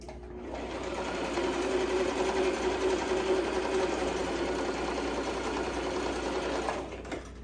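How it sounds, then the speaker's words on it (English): A sewing machine runs a continuous stitch down the length of a fabric necktie, a fast even mechanical whir that spins up, holds steady for several seconds and then stops, heard alone. "all I'm doing is sewing a line straight down."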